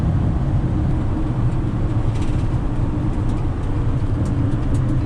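A car cruises the I-605 North freeway in California, heard from inside as a loud, steady drone of road and engine noise that never changes, with no talking.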